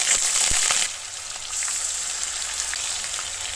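Onions dropped into hot oil where sugar has caramelized red: a loud splashing sizzle at first that settles into a steady, close frying crackle with no voices.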